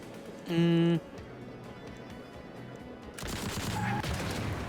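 A minigun fires on a freight train in the frozen wilderness of Fogpiercer, first in one short buzzing burst, then settling into a longer rattling stream of fire after a pause.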